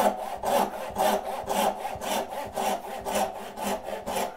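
A hand saw cuts through wood for a half lap joint, with a steady back-and-forth rhythm of about eight or nine rasping strokes, close and clear, and no voices.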